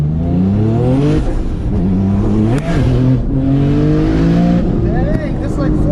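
A 1000-horsepower Porsche 911 of the 997 generation roars loudly from inside the car during a test drive, its engine note rising and falling through revs while voices talk over it.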